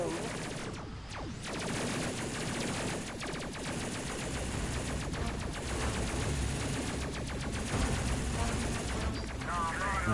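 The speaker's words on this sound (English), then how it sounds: "We all come in guns blazing." Rapid bursts of space combat gunfire in the PS4 game Space Crew as a freighter comes under attack, repeated volleys and crackling fire sounding dense and continuous at moderate level.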